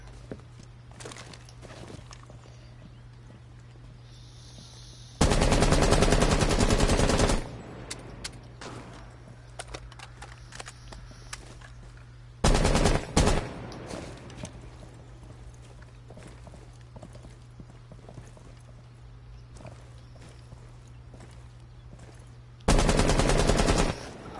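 Automatic weapon fire in Rainbow Six Siege comes in three loud, sustained bursts, the longest about two seconds, over a low game hum with quieter footsteps and clicks between them.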